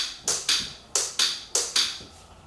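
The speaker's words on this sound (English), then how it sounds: "clicks towards an open room" Six sharp clicks made with a cone for blind echolocation, aimed toward an open room, coming in an uneven rhythm of close, crisp taps with a brief room tail after each.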